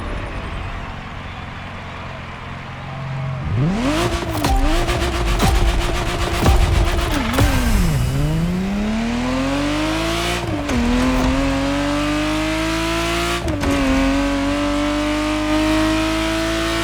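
Ferrari Testarossa in The Crew Motorfest racing game revs and accelerates loudly, its engine note climbing through several gear shifts with brief drops between them, heard close and alone.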